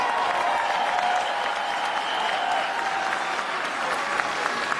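Steady, even applause fills a meeting hall in Washington DC as the audience claps for a speaker, a dense continuous patter of many hands, with a few sharper claps near the end.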